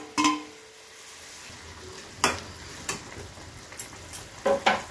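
Fish is dropped into a pan of simmering okra curry, giving a soft sizzle with several sharp clinks and stirring knocks of a utensil against the pan, scattered irregularly and close by.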